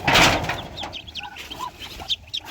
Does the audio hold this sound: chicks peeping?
yes